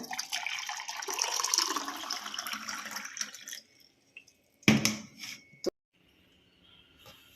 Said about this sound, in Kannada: ಈಗ ಒಂದು ಲೋಟಕ್ಕೆ ಬಿಸಿ ನೀರು ಹಾಕ್ಕೊಳ್ಳೋಣ ನೋಡಿ ಈ ಥರ